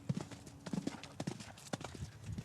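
Horses walk on a ranch, hooves clip-clopping in an irregular close rhythm of distinct knocks, moderately quiet with faint background noise and no talk over them.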